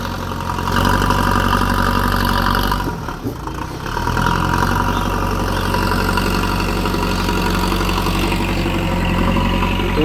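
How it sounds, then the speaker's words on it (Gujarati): A tractor engine runs steadily and loudly in a village while a JCB loads it with manure. The engine holds a constant idling rumble with one brief dip partway through. "આપણું ટ્રેક્ટર ભરાઈ છે."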